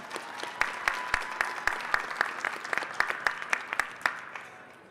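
Audience applause for the FarmMind team at the American Farm Bureau Convention: a steady crowd of many hands clapping for about four seconds, sharp individual claps standing out, then fading away.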